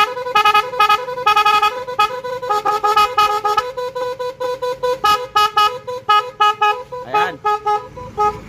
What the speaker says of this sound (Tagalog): magkabit ba kayo ng busina na ganito mga idolo? Yung marami ang tunog.